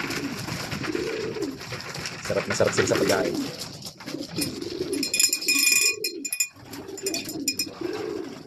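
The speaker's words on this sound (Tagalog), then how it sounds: "At nagkukuhog ang mga ibon." Racing pigeons in a loft coo steadily in soft, repeated rolling calls while they feed, with a person talking over the flock.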